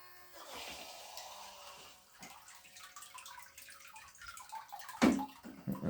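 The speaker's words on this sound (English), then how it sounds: "So the water's sucked into there and pumped out of there." Toy water jet boat pumping bathwater, a steady gushing, splashing water sound up close that swells and sputters near the end.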